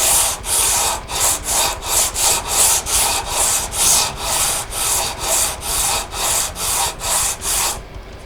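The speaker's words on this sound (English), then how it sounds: "this stuff was actually pretty easy to trim with just that sander" Wood is sanded by hand on a custom headless guitar build, about sixteen loud, even back-and-forth rasping strokes close up, ending abruptly.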